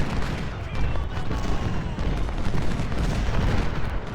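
Artillery fire rumbles continuously in the video game Ultimate General: Civil War during the First Battle of Winchester, a dense, steady wash of booming battle noise with no clear gaps.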